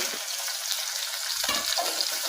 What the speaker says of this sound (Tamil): பச்சை மிளகா வெங்காயம் பூண்டு கருகாப்பில் எல்லாம் போட்டு